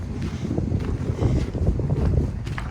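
Steady cold winter wind buffeting the microphone outdoors in central Kharkiv, a continuous low rumble with gusty swells throughout and no voices.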